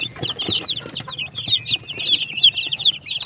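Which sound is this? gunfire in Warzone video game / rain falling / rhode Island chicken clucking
rhode Island chicken clucking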